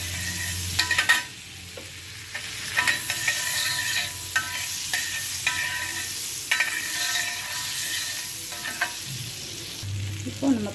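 Paneer cubes sizzling in butter on a hot tawa, a steady close frying hiss broken by scraping stirs and clinks of a spatula, with no one talking.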